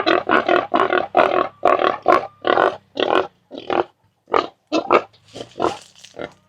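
Wild boars on a farm in Thailand's Isaan region grunt in a steady run of short, close, loud bursts, with a few brief pauses between the grunts.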